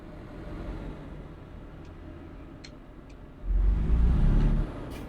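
Cars passing on a road heard from inside a vehicle, a steady rumbling traffic wash with a louder, closer vehicle surging past near the end.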